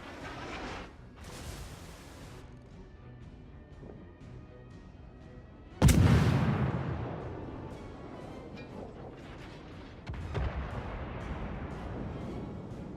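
Naval shells firing and impacting in World of Warships, with a few scattered booms and one heavy, deep blast that rolls out into a rumbling decay, followed by further distant thuds.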